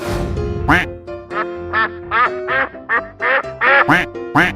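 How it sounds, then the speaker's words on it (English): A cartoon duck quacking in a steady run of about a dozen loud, nasal quacks, spaced closely and evenly, with light background tones underneath. "Quack, quack."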